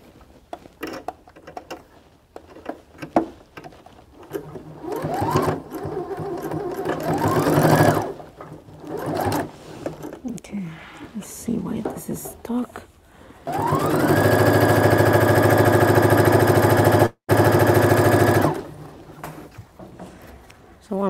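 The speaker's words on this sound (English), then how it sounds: "Doing is I'm just hemming the edges." A sewing machine hems the edges of an apron, running in short stop-start bursts and then a long steady whir, close and loud, with a voice talking between runs.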